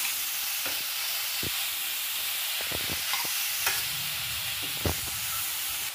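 A spoon stirs thick carrot halwa cooked with ghee in a pan, giving soft scraping and gentle sizzling with a few sharper clicks of utensil on metal over a steady frying hiss.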